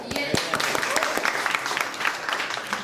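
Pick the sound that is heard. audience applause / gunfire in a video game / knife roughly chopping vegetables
audience applause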